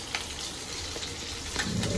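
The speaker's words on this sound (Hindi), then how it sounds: "पनीर को उलट उलट करके इसको बस शैलो फ्राई करना है, ब्राउन कलर का" Paneer shallow frying in a pan, a steady close crackling sizzle with soft scraping as the pieces are turned, continuous and fairly quiet, no voices.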